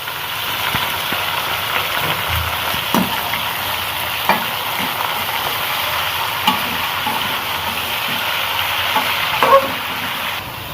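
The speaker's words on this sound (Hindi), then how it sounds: "चिकन को भी हमने 3 से 4 मिनट तक ऐसे ही फ्राई करना है" Chicken pieces fry loudly with browned onions in a pot for chicken biryani, giving a steady dense sizzle with occasional stirring clinks and scrapes and no speech.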